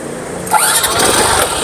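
An Absolute Revo automatic motorcycle engine cranking on the starter and catching, a sudden rising burst of engine noise about halfway through that settles into a loud, close idle, with no talking.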